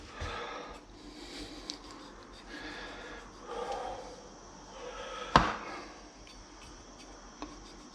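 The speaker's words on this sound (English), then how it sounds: "And I'm going to cut into the skin." A knife scores and cuts into the skin of a roast pork, giving soft scraping and crunchy cutting strokes at close range, with one sharper crackle near the end.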